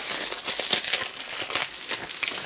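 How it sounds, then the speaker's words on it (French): AliExpress parcels being unwrapped, their plastic and paper packaging crinkling and crackling continuously at close range, with no voices. "On va tous les déballer parce que ça sert à rien que je les garde enfermés."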